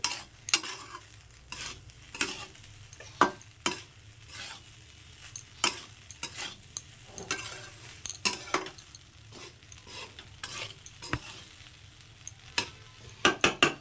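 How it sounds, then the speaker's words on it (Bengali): Egg chicken fried rice sizzles in a hot pan while a utensil scrapes and clanks against metal in frequent, uneven strokes, growing louder toward the end. "আমি ভাতটাকে আবারও ভালো করে মিশিয়ে আর একটু ভাজা করে নেবো"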